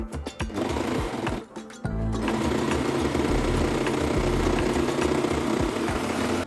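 A sewing machine runs steadily, finishing the seams of wide-leg pants, starting with a few short bursts before settling into a continuous close, loud mechanical hum.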